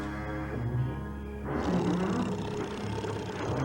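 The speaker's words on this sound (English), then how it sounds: "It was the loudest snoring you ever heard." A deep, rumbling roar-like snore, loud and close, rising and falling in long drawn-out breaths.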